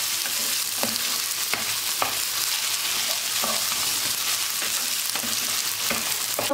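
Rice and browned vermicelli sautéing in a pan give a steady, close sizzle, while a spoon scrapes and stirs at regular intervals. No one talks.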